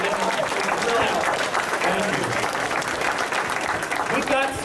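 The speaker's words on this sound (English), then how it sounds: "give them a real round of applause" A convention audience at an MLP event applauds its helpers with dense, sustained clapping close by, with a voice briefly heard near the end.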